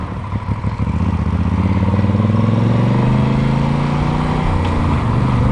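Motorcycle engine droning steadily up close while riding through city traffic, its pitch rising smoothly as it accelerates, loud and continuous.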